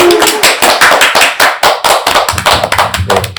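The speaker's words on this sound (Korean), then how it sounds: "자, 우리 하나님 앞에 영광의 박수." An audience at a church gospel lecture series claps together in a burst of loud, rapid, fairly even applause lasting a few seconds, with no talking over it.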